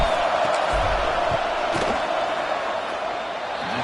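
A dense stadium crowd at a football game roars steadily during a field goal attempt, with a continuous wash of noise and no clear individual voices.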